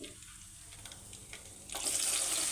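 Onion dropped into hot oil already crackling with cumin and mustard seeds, a steady sizzle that suddenly swells into a loud, bright hiss partway through, with no talking.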